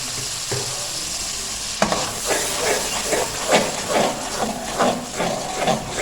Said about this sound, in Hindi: और अब इसको दही का पानी ड्राई होने तक भूनेंगे।